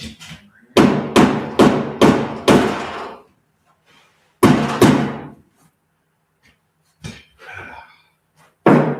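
Loud hammer blows ring out close by: a rapid run of five strikes, a pause, two more, then a few scattered knocks.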